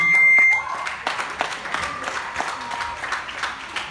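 An audience at an a cappella singing contest applauds a singer, a scattered clapping that starts after a brief electronic tone and stays moderate.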